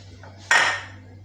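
A knife cuts olives for a homemade pizza with one sharp, bright clack against the board, followed by a brief fading ring, close up and otherwise quiet.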